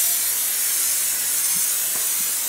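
Clear coat sprays from a spray gun onto a car side mirror in a garage, a loud continuous close hiss that runs unbroken through the whole stretch.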